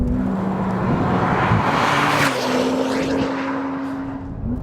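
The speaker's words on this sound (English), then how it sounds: "the exotic wail of that V10 in the Audi" An Audi R8 V10 Plus accelerating hard out of a corner, its V10 wailing as it climbs through the revs with audible gear changes, loud and close, tapering slightly at the end.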